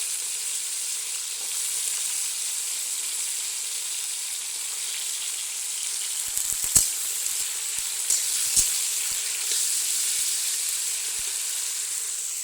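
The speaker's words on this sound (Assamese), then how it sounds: "দিছোঁ ইয়াত কল ভাজিম" Steady sizzling of raw plantain frying in hot oil, a continuous hiss with a few sharp pops and crackles partway through.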